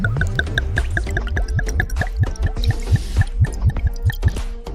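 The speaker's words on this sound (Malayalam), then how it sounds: "ഇനി നമുക്കതിൽ കുറച്ച് എണ്ണ ഒഴിച്ചു കൊടുക്കാം" Cooking oil poured into a hot pan on a stove while making tapioca chips, heard as a close, steady run of bubbly drips and small splashes with no talking.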